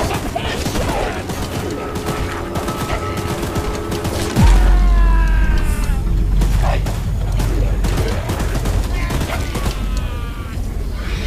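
Mounted gun blasting at the monster train Charles in Choo-Choo Charles, a rapid, loud fusillade of shots with deep booms and mechanical clatter, steady across the whole stretch and heavier after a sharp impact midway.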